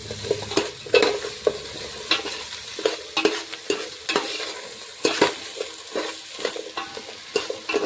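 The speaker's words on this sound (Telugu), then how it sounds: "అన్ని ముక్కలు మంచిగా ఫ్రై కావాలి" Green chilli, carrot, potato and tomato pieces frying in a pan for khichdi, a steady close sizzle broken by repeated spatula stirs and scrapes at an uneven rhythm.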